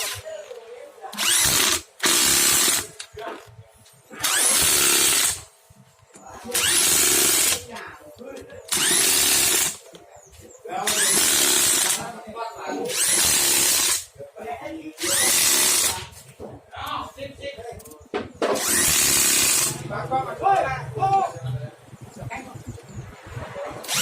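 A power impact wrench fastens bolts on a Yamaha Jupiter Z motorcycle engine during assembly, with about eight loud bursts of whirring that each last one to two seconds and are spaced by short pauses, then quieter handling noises and brief talk.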